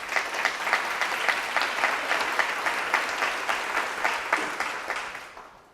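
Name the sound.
audience applause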